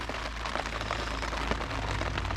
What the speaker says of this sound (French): Là vraiment, ça devient difficile là, la pluie